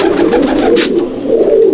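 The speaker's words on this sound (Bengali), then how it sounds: "এটা হচ্ছে মাদি পায়রা।" A female Madrasi pigeon coos in a loft, producing a steady, close, low murmuring coo that runs through the whole moment with a brief brighter flutter midway.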